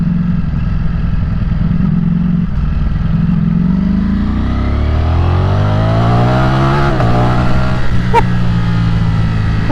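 A Ducati Streetfighter V4S motorcycle engine revs hard while riding, its loud pitch climbing smoothly through a gear before a brief blip, with wind rushing past close to the rider.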